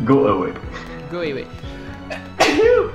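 A single sharp sneeze bursts out near the end, just after someone speaks briefly during a Crisis Core: Final Fantasy VII game session.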